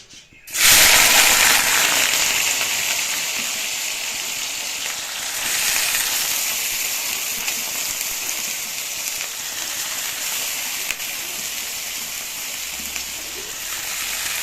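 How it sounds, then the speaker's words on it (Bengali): Potato fries dropped into hot oil in a pan burst into loud, steady sizzling after a brief quiet start, the crackle continuing unbroken at close range. "আলু ভাজাটা এর মধ্যে দিয়ে দিই"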